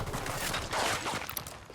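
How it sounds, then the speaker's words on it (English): Rapid gunfire bursts crackle through a Ghost Recon Wildlands firefight, a dense, moderately distant volley of shots over about two seconds with no clear voices. "Opening fire."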